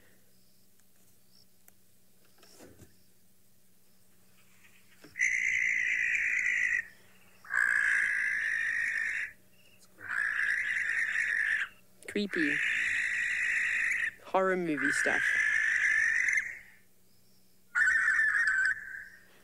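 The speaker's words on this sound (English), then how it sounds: "Owl." Owl giving a series of loud, harsh screeching calls at night in a wildlife setting, several long shrieks separated by short pauses, with people talking briefly around them.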